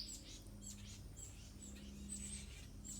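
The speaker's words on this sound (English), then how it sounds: "So many birds right now." Small birds chirp outdoors in quick, high, scattered tweets, faint and somewhat distant over a low steady background hum.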